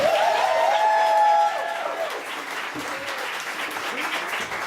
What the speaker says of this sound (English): please give a round of applause for both cohorts 1 and 2